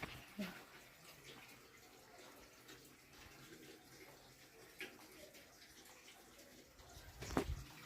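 Running water splashes and trickles continuously while something is washed outdoors, fairly soft with a louder splash near the end and faint talking in the background.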